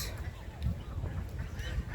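Ducks and drakes feed on a tropical plantation on Maui, giving short honking quacks close by over a low rumbling background.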